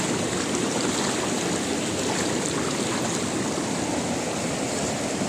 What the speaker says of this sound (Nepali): आज चाहिँ माथिबाट चाहिँ खोला चाहिँ ठुलै आइराखेको छ